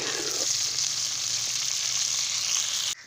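Okra fries in a pan and is stirred slowly with a spoon, producing a constant, close sizzle with faint scraping strokes. The sound cuts off abruptly at the very end.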